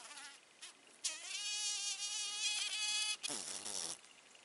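A large Sphex digger wasp buzzes close by, a sustained high droning whine that starts after a brief pause, swells, then cuts off and resumes in a shorter burst, with no talk.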